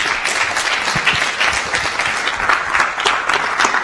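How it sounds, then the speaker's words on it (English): A symposium audience applauds a finalist, with dense, continuous clapping from many hands that holds steady and fairly loud throughout. "please, big round of applause"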